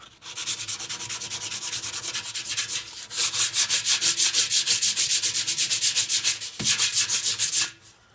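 Bondo filler on a dented Honda motorcycle gas tank being sanded by hand with coarse grit: rapid rhythmic back-and-forth rasping strokes, loud and close, with brief pauses between bursts and no talking.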